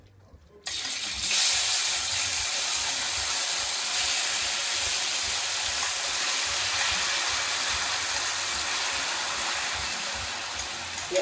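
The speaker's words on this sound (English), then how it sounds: "I did have the stove on, and so you might hear a little sizzling." Steady, bright sizzling hiss from tofu frying in a pan on the stove, starting abruptly after a brief quiet moment and continuing evenly close by.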